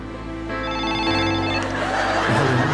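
A telephone rings close and loud, its bell trilling steadily for nearly three seconds with a brief shift in tone partway, alone without talk.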